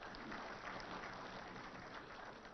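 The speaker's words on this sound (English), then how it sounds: "And deserving of applause" An audience applauds at a launch event for the IT, E&C department's annual report in Hyderabad. Dense, continuous clapping forms an even crackling wash that holds steady across the whole stretch, heard faintly and without any talk.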